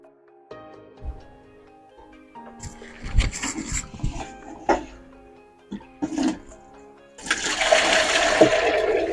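Liquid bio-fertilizer of EM and molasses pours from a watering can onto compost, a steady rushing splash near the end after a few faint knocks and handling sounds.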